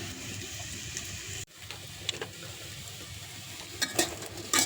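Lentil fritters (dal bora) fry in oil in a pan with a steady crackling sizzle, interrupted by a brief drop near the middle and then continuing with small ticks and pops. No one speaks.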